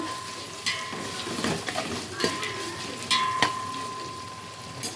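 Sliced onions with salt sizzle softly in a pan while a spoon stirs them, giving quiet frying and scraping clinks with a few sharper knocks against the pan.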